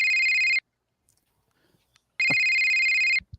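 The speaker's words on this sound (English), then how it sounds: "Somebody's ringing." A phone ringtone plays two loud, steady electronic rings separated by a pause of near silence, with faint handling noise after the second ring.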